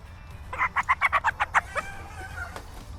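A rapid run of about nine loud clucks from a chicken, with a couple of softer clucks trailing off and faint farmyard noise behind.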